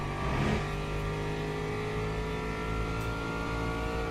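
A Lamborghini race car engine in the Le Mans Ultimate racing game, a loud sustained high-revving drone heard from inside the car, steady with a brief surge early on and no talking.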